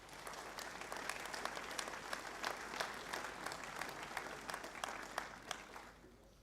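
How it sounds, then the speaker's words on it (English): A school assembly crowd gives sustained, moderately distant applause, many hands clapping in a continuous even texture that holds for several seconds before starting to thin out at the end. "Can we give these men a round of applause"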